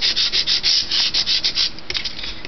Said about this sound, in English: this is just inexpensive sandpaper